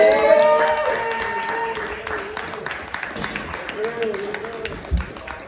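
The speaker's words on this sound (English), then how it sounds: "Clap it up for Blake Raspardo." Audience at an open mic clapping after a first-time performer's set, with voices calling and talking over the scattered claps; the applause is moderate and thins out toward the end.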